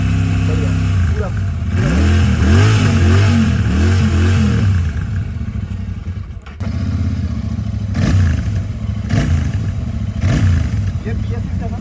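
Stock exhaust on a BS6 Royal Enfield 650 twin, Continental GT 650 or Interceptor, revved repeatedly toward 3000–4000 RPM, each loud rise and fall close by, with a brief dip near the middle.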